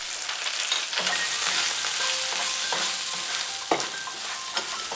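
Tofu fries with garlic in a pan, making a close, even crackling sizzle throughout, with a couple of sharper pops or spatula taps near the end.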